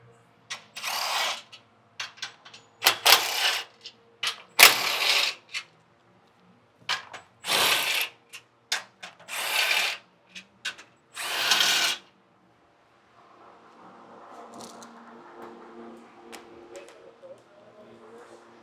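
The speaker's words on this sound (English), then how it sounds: "Now we're gonna zip them off with the gun." Impact wrench zipping bolts off a front crash bar during a bumper swap on a 4th-gen Toyota Tacoma, heard as repeated loud, short rattling bursts up close, then a quieter mechanical tail.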